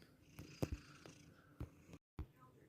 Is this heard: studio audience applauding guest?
no